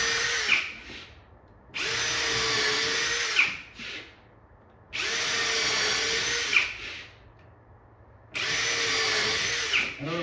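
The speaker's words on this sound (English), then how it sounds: "I'm using this countersinking bit here. So what it's doing is it's drilling a pilot hole" Power drill fitted with a countersinking bit boring pilot holes into wood, three sustained whining bursts of about two seconds each separated by short pauses, close and loud with no talking.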